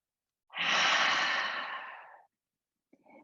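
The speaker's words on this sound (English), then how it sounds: "Full breath in, full breath out." Slow, deep breath during restorative yoga: one long, close exhale that rises quickly and fades over nearly two seconds, followed after a pause by the soft start of the next breath.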